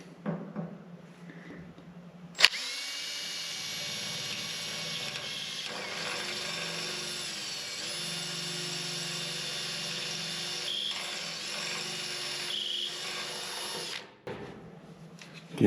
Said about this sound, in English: I just want to get my pilot holes in.